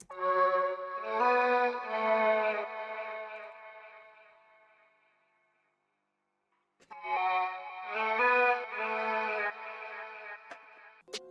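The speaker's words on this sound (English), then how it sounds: "this time I only used a heavier delay to make them sound big" Layered sung vocal melody samples processed with a heavy Valhalla delay for a trap-style beat, heard as two sustained harmonic phrases with echoing tails that fade into silence before the second phrase returns, loud and alone with no talking.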